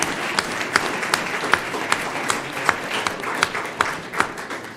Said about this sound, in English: let's give a round of applause to all of our coaches and students this last season